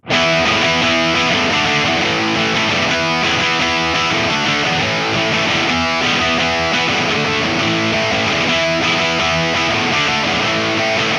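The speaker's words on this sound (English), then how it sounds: "a drive pedal that gives you a wide range of sounds from something like a light crunch" A loud electric guitar plays through an Old Blood Noise Endeavors Fault V2 overdrive/distortion pedal, with heavy overdrive, its chords dense and continuous without a break.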